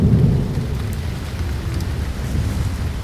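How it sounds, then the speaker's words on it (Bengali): A thunderstorm sound effect in a narrated horror story: a deep, loud rumble of thunder rolls under steady heavy rain, close and continuous, with no voices heard. "এমন সময় আবার কালো মেঘ করে বৃষ্টি শুরু হলো।"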